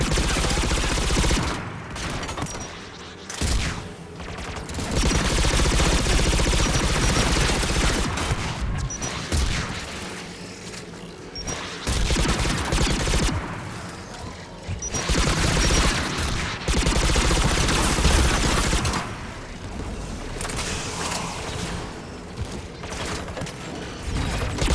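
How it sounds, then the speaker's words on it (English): Anti-aircraft guns firing in the Mass Effect 3 video game, loud bursts of heavy rapid fire and mechanical clatter that come in waves with short lulls between them, and no talking. "There, the anti-aircraft guns."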